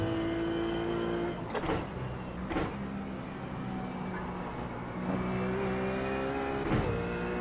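A RUF race car engine drones loudly in second gear at Summit Point Raceway in the iRacing simulator, with steady harmonic engine whine broken by a few sharp shifts and revs.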